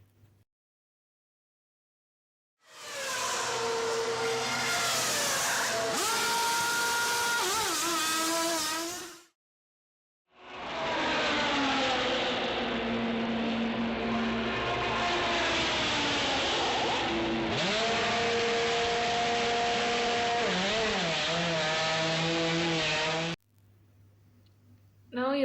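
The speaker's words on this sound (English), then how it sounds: "check the short video that show the condition of the F1 pit stop during the race" Formula 1 pit stop during a race, loud whining engines and rapid mechanical whirring in two long bursts separated by a brief gap, close and sustained.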